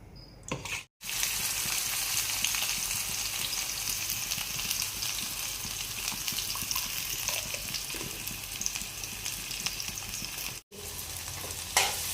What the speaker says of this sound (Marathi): लाल लाल कांदा परतून घ्यायचं